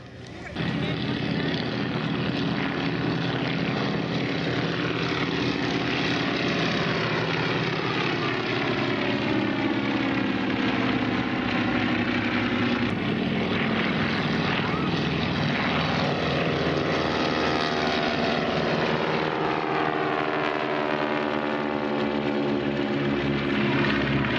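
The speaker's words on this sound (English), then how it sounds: "listen as the biplanes from the Flying Circus take off in two elements here" Several biplanes roar loudly and steadily as they take off at an airshow, engine drone rising and shifting in pitch throughout.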